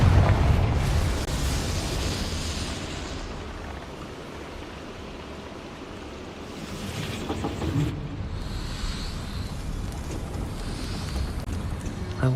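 A Confringo fire spell cast in Hogwarts Legacy: a loud, rumbling fiery blast with a roaring wash of noise that swells, fades, then flares again over several seconds.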